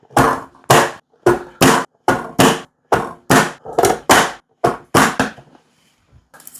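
A manual plunger food chopper is hammered down on peppers and onions, giving about fourteen sharp, close chopping thuds in a quick, slightly uneven rhythm before falling quiet.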